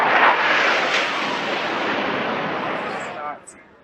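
A Russian Su-24 jet roars past a destroyer at close range, a loud broadband jet rush that peaks at once and fades away over a few seconds.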